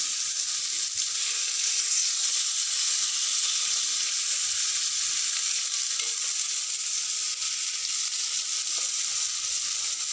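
Loud, continuous hissing sizzle of pomfret fish frying in hot oil, steady and close throughout, with no speech.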